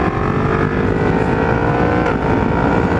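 A 2021 Yamaha MT-10 SP motorcycle engine roars steadily under hard acceleration, loud and close with heavy wind rush, and no talking over it.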